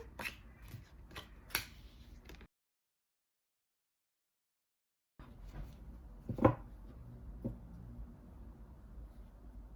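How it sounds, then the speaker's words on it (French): Tarot cards gathered and put away with soft rustling and light taps at close range. A stretch of silence splits the handling, then a sharper snap of the cards sounds alone. "Alors, je range les cartes."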